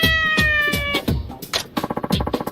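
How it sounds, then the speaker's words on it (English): A hungry cat meowing in the video game Like A Dragon: Ishin, several close, plaintive meows in quick succession, followed by a run of short, rapid mewing chirps, with no talk. "Please name the hungry cat."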